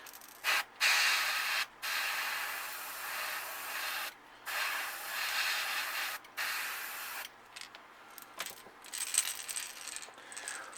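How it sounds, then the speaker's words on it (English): Airbrush hissing paint onto a bluegill-patterned crankbait in steady bursts of spray, each a few seconds long, broken by short pauses, close and fairly soft with no voices. "I do it on angles, so some of the overspray will gradually taper off at the top of the gill"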